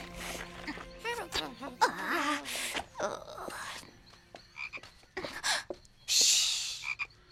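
Frogs croak in a damp outdoor setting, a faint, irregular series of throaty calls with several brief voices and rustling around them.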